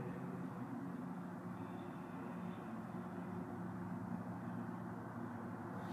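A short CN freight train led by EMD GP40 and GP38-2 diesel locomotives rumbles past Oakville GO station, heard as a faint, distant, steady low drone with no voices.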